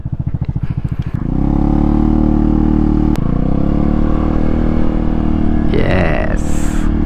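A scooter engine on Michelin tyres revs up and drones steadily at close range while riding, its exhaust note loud and continuous, with a brief clatter near the end.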